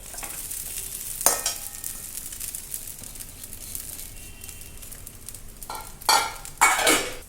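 Diced potatoes sauté and sizzle in a hot pan with green chillies for sabudana khichdi. A spatula stirs and scrapes steadily, with louder scraping bursts toward the end, close up and with no voices.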